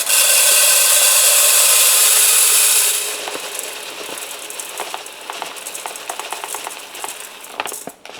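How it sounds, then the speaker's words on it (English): Dry rice pours into a container on a kitchen scale, a loud steady hiss for about three seconds, followed by scattered grains trickling and clicking in small irregular bursts. "all I'm gonna do is take my rice. We're gonna dump this in until we get 455 grams."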